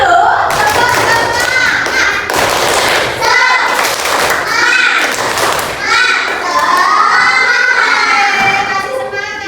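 A classroom of children claps their hands together in short bursts, loud and close, with children chattering and a teacher's voice running over the clapping throughout.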